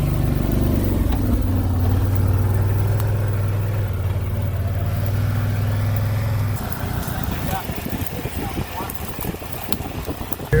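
A 2023 Can-Am Defender HD10 XMR side-by-side sits idling with a loud, steady, low engine rumble outdoors, which fades to rougher mechanical noise partway through while someone talks over it.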